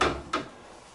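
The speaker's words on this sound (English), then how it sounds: "oh, you've got our crisper drawers on the bottom, a cold cut drawer in the middle" A drawer on a stainless steel refrigerator, likely a crisper drawer at the bottom, slides open with a short soft scrape followed by a second brief thud, close and moderately quiet.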